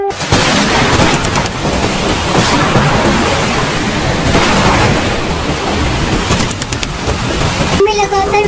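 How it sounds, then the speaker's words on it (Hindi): Steady, dense rain pours loudly throughout with a broad rumbling wash, suggesting a heavy storm; a brief tonal sound appears near the end. "में लगातार बारिश हो रही थी।"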